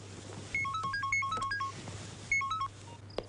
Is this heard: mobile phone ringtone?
yes